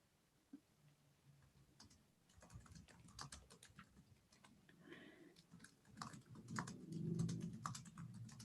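Scattered clicks and taps of computer keys and buttons, irregular and fairly close, with a low background hum building toward the end.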